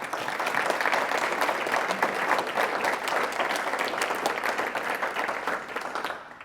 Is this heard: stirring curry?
no